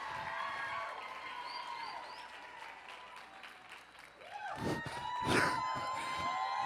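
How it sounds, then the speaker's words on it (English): Audience applause and cheering greeting guest speaker Tony Martinez, a broad sustained crowd roar that swells with whoops near the end, under a host's voice. "We got a cheering section for you"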